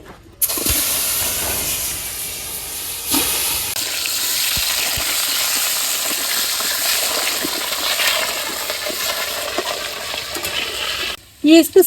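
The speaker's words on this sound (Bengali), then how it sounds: "আমি আলুগুলো দিয়ে দেই" Potatoes tip into hot oil in a pan, setting off a loud, sustained sizzle and hiss that carries on steadily with faint stirring clatter, close up, in a village kitchen.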